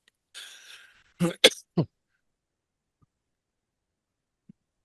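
A short burst of speech, then three sharp coughs in quick succession close by, followed by quiet.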